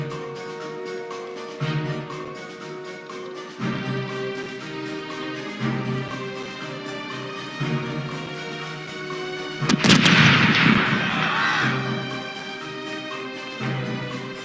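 Ship cannons fire during a pirate naval battle in the video game Corsairs Legacy, a run of booming shots at a steady interval with one loud, sharp blast near the end, under game music and ambience.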